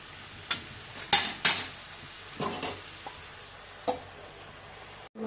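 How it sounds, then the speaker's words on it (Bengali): A lid set over a pan of cabbage and potato curry on the stove: several sharp metallic clinks and clatters spaced over a few seconds, fairly close and quiet, with a faint background hiss. "তো আমি এখন ঢাকা দিয়ে দিচ্ছি"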